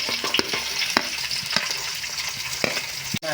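Beans and carrots stir-frying in a pan for a vegetable biryani made with ration rice: a loud, constant sizzle broken by sharp scrapes and taps of a spoon, ending in a quick clatter.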